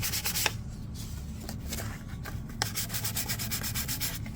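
Sandpaper rubs over a plastic Predator biomask before priming, a steady close scratching with repeated back-and-forth strokes and short louder swipes, with no talk.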